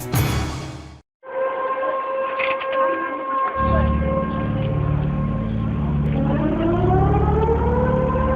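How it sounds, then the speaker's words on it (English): Tsunami warning sirens in Alaska wail loudly and continuously, a steady sustained tone followed by a rising, swelling siren layered over a low rumble, with a brief silent gap near the start. "These are the sounds of a tsunami warning."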